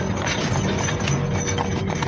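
Horse-drawn carriage hooves clip-clopping in a steady, continuous rhythm at close range, loud and filling the whole stretch, set in a horror story scene with no talk over it.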